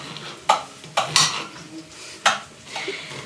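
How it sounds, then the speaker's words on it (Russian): A knife slices vegetables into thin rings in a home kitchen in Uzhhorod, Ukraine, with a handful of separate, sharp cuts against a board, close and fairly loud over quiet room background. "Я режу колечками, вот так колечками."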